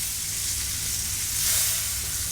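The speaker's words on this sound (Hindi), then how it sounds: "बस फुल आग करके इसको आप फटाफट फ्राई कर लें।" Chicken pieces for chicken mandi fry in a pan over a high flame, giving a steady, dense sizzle and hiss that swells slightly midway, with no talking.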